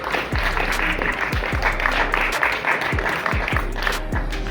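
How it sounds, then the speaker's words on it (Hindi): An audience at a farewell ceremony for a B.Ed college in Uttar Pradesh claps together, a loud, steady burst of applause with some sharper individual claps standing out near the listener. "तालियां होनी चाहिए सभी लोग"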